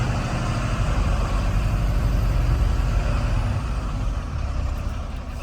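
A fully loaded truck climbs a slope in C gear, its engine a loud, steady low drone that holds constant throughout with no voices.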